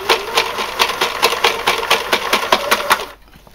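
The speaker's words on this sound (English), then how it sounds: "start off with a slight zigzag, then I'm going to stop it and go back to a straight stitch" A sewing machine zigzag-stitches elastic fabric up close, its rapid rhythmic clatter of needle strokes running steadily for about three seconds before stopping abruptly.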